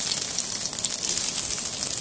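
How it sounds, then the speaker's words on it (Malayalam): Onions fry in hot coconut oil in a pan, giving a steady, close, hissing sizzle with no voice over it. "അതൊന്ന് ചൂടായി കഴിയുമ്പോൾ അതിലോട്ട് നമുക്ക് സവാള ഇടാം"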